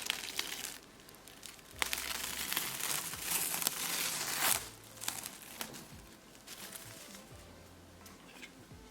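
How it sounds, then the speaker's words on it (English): Plastic wrap is peeled off a container of homemade almond ice cream, giving close, quiet crinkling and tearing rustles in irregular bursts with short pauses between. "I'll take the plastic wrap."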